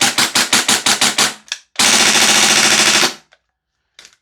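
A Maruyama SPC-9 PDW gas blowback airsoft SMG fires a rapid string of about eight sharp reports, then a longer continuous burst, followed by a brief clack and a faint mechanical click, loud and close with no talking.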